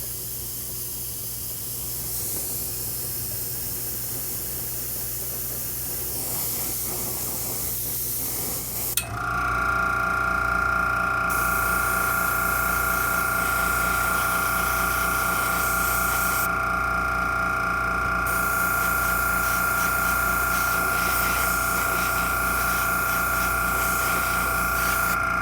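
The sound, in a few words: airbrush spraying air to dry paint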